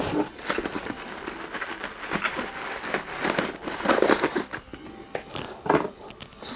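A large plastic package being unwrapped from a box of comics, with crisp crinkling and crackling bursts in an uneven rhythm, close and fairly loud, with no talking.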